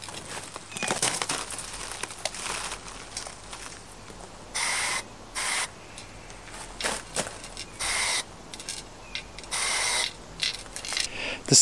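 A can of spray paint marks a pool outline on the ground in several short, sharp hissing bursts, separated by pauses filled with quiet outdoor background and small clicks.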